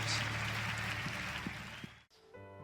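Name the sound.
congregation applause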